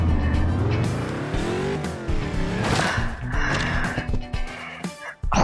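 Revving car engine and squealing tires from the physics crash game Turbo Dismount, a loud continuous whine with rising and falling pitch sweeps, skids and scrapes near the end.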